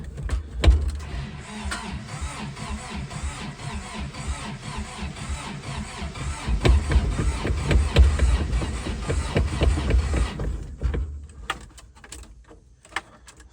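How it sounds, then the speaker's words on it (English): A 1984 Toyota truck engine cranking as it tries to start: a steady, rhythmic starter churn lasting about ten seconds, fairly close, then cutting off into a few scattered clicks and knocks. "I don't know if that'll get it to crank or not."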